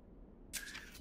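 A camera shutter snaps once as a photo is taken in the video game Myst, a brief bright click burst arriving alone after quiet background.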